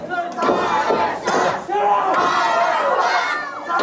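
A wrestling arena crowd roars and cheers in loud, continuous waves of massed shouting, with brief dips between surges.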